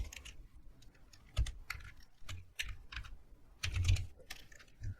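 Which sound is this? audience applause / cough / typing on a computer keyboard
typing on a computer keyboard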